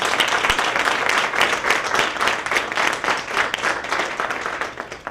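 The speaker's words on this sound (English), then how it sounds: "Give him a big round of applause." Steady audience applause at a tribute event honoring community figures, a dense, continuous wash of many hands clapping that holds loud for about five seconds before easing slightly at the end.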